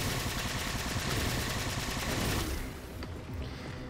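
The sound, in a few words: gunfire in the video game Halo 4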